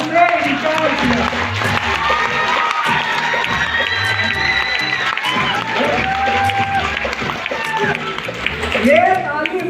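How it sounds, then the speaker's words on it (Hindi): A training-event crowd claps and cheers, with shouts and excited voices mixing into the applause, loud and lively throughout as someone talks over the noise. "ये ताली मत मारो"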